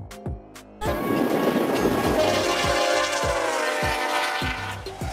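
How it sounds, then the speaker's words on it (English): A container train hauling standardized shipping containers rolls past with a steady, loud rumble and rhythmic wheel thumps on rail joints, a sustained horn tone riding over it after a brief quieter opening. "Container train."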